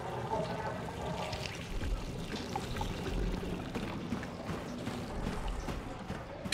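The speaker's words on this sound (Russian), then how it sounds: "Ух, забился унитаз, видимо, дрожжи кинули." A clogged toilet gurgles and sloshes in the Silent Hill 2 Remake video game, a steady, muffled watery churning that runs quietly and continuously without talk.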